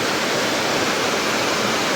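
Darekar waterfall, running with less water than at the height of the monsoon, gives a steady, unbroken roar of falling water close by with no voices.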